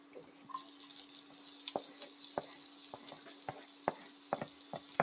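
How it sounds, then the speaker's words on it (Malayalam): Ginger and garlic sautéing in a pan for pasta, a soft background sizzle punctuated by sharp clicks and taps of a utensil against the pan, fairly quiet and close, no voices. "നമുക്ക് ഇഞ്ചി, വെളുത്തുള്ളി ഒന്ന് വഴറ്റിയല്ലേ"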